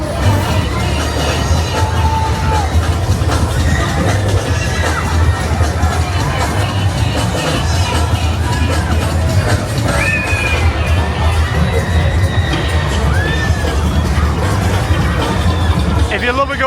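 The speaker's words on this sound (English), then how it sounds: "Come on, right now, somebody scream!" Riders on the Booster Max thrill ride at Nottingham Goose Fair scream and cheer in a loud, continuous crowd din, with shrieks rising and falling over the steady fairground roar.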